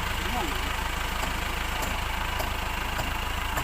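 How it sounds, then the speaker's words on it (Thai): A heavy Cummins diesel engine idles with a steady, rattling low chug, close by and continuous, with occasional sharp ticks. "เครื่องยนต์จักรหนักดีเซล นะครับคามิน"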